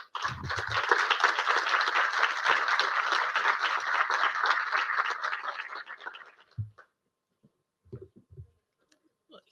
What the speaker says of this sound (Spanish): Yo les pido un aplauso, por favor, para ella.